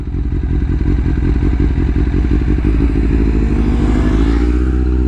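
A sport motorcycle, a ZZR 600, rides along a road with a loud, close engine drone and a rapid rhythmic pulsing that shifts slightly in pitch, steady throughout with no voices.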